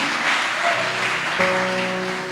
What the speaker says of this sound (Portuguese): Pode aplaudir ao Senhor, Ele é lindo, Ele merece.